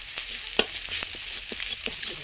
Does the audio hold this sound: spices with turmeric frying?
yes